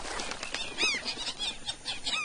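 Birds flap their wings and call as they mob an anaconda, with a steady flurry of wingbeats and scattered chirps close by in the open air, no voices present.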